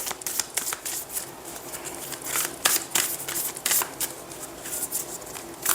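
Tarot cards shuffled and handled by hand to pick one, a steady run of close, crisp riffling and slapping flicks with no talking.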